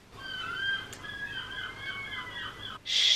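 Seagulls calling from a rooftop, a series of drawn-out, wavering cries at moderate distance, ending in a brief, louder burst of noise.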